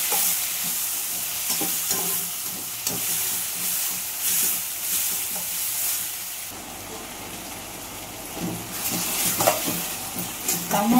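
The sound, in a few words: tomatoes with rock salt frying and being stirred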